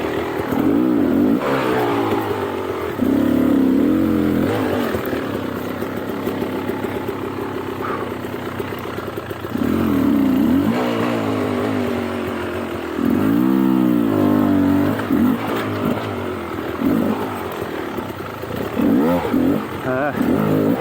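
A 2021 Beta 300 Race Edition two-stroke enduro motorcycle being ridden, its engine rising and falling in repeated revs and accelerations close by, with a rider talking over it.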